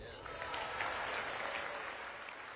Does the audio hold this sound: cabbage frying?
no